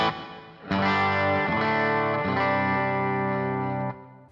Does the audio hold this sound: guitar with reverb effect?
yes